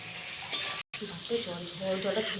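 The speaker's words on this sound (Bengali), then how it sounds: "পেঁয়াজটাকে লাল লাল করে ভেজে নেব" Onions sizzle in hot oil while a utensil scrapes and stirs the pan, with a brief clatter partway through, frying until browned.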